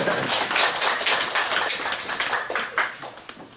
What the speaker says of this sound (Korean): 박수 좀 쳐줘요 애들한테